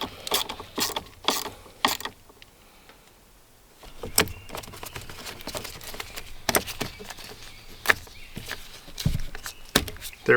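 A ratchet clicks in repeated short bursts while battery terminals on an adventure truck's new AGM battery are snugged down, close and crisp, with a pause before more rapid clicking and light metallic handling noises.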